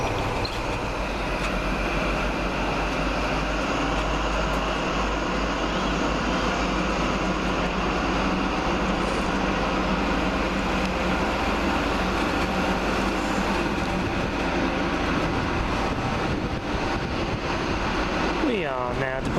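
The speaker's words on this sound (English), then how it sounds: "We are now departing Wakefield Westgate, and the next stop for us will be Leeds" Train pulling out of Wakefield Westgate station, heard from aboard with a steady broadband rumble and rail hum throughout, rising slightly in intensity near the end.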